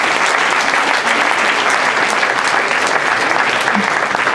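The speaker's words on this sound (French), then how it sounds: "on peut les applaudir." Audience applause at a political speech, a dense, steady wash of many hands clapping throughout, loud and close with no pauses.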